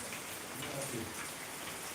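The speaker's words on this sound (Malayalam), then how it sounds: "നല്ല മഴയാണ്" Heavy rain pours steadily in a dense, even hiss that fills the whole stretch, with no breaks or distinct drops standing out.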